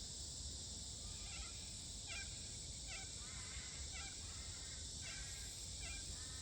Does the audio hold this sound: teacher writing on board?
no